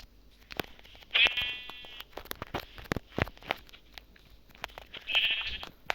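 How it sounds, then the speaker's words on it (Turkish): Sheep in Minecraft give two short, buzzy bleats a few seconds apart, standing out against scattered clicks and faint background noise. "Her çeşitten bir koyun var bizim burada da."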